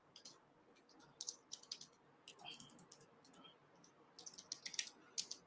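A computer keyboard clicks in soft, irregular bursts while text is typed and edited, the keystrokes faint and close over a quiet room hiss.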